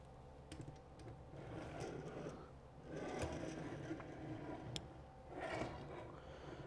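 Small plastic wheels on a toy robot figure roll across a surface with a soft, close rumble and faint clicks, rising and fading in a few short passes.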